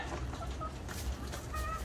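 Old laying hens at a farm cluck in short, soft bursts over a low background hum, close by and without talk.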